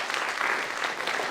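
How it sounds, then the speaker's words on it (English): Audience applause at a Saskatoon Fringe mind-reading show, a dense, steady wash of many hands clapping together for the whole short stretch, close and fairly loud. "Everyone else is going to give her a huge round of applause."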